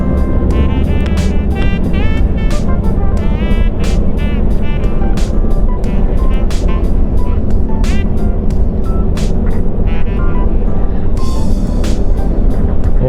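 A Scania R580 truck engine drones and rumbles loudly from the cab as it descends the Col du Pin Bouchain mountain pass, with repeated sharp clicks and rattles over the steady low noise.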